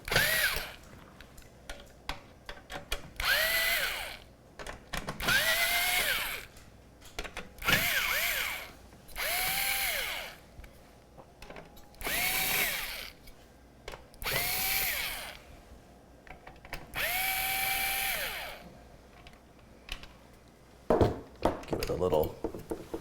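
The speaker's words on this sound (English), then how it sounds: "let's grab the screwdriver here. Let's crank up the torque rating all the way up." An electric screwdriver set to maximum torque backs out the screws of a PC CPU cooler in repeated whirring bursts of a few seconds each, separated by brief pauses and small clicks, close and fairly loud.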